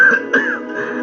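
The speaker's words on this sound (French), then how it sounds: "Laisse-moi tousser pour prendre du souffle." A single short, harsh throat-clearing cough from a man, close and loud, with a brief rasping follow-up.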